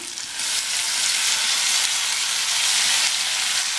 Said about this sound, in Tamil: இந்த தக்காளி வதங்கி வரட்டும்